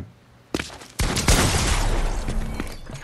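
Gunfire in the video game Fortnite, aimed at player-made builds, a sudden loud burst that turns into a sustained, dense rattle of rapid shots mixed with clattering impacts, no talking.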